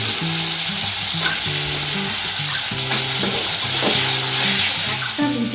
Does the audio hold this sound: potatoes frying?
yes